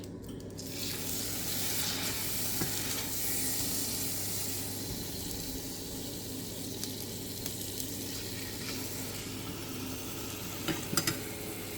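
Beef sizzles and fries in a very hot pan while being stirred, a steady close hiss with occasional faint scraping of the utensil.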